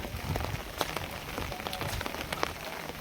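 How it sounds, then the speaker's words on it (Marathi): Light rain pattering on a surface, with scattered close drops tapping irregularly over a soft steady hiss. "पाऊस थोडा थोडा पडतोय"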